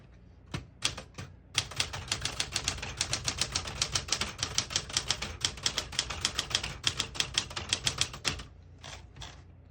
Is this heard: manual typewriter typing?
yes